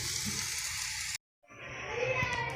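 Aloo tikki patties sizzle in hot oil on a tawa, a steady frying hiss broken by a brief silent gap, then the sizzle resumes as more patties go in, with someone speaking softly at times.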